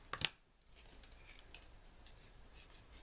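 A single quick, close snip of scissors cuts through baker's twine on a card tag, followed by quiet room tone.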